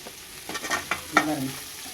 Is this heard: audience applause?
no